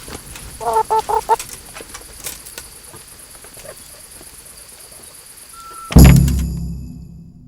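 Hen in the video game Kingdom Come: Deliverance giving a quick burst of several clucks early on, set against a steady chirping of crickets, before a loud thump near the end.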